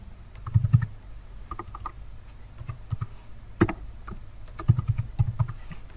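Typing on a computer keyboard, with short clusters of quick keystrokes and scattered single taps, close and fairly quiet, with pauses between bursts.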